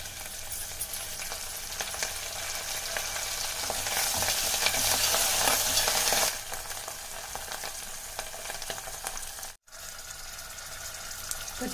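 Cashews and curry leaves fry in hot oil in a pan for semiya upma, giving a steady close sizzle with stirring scrapes that swells loudly midway, then settles to a softer crackle with a brief gap.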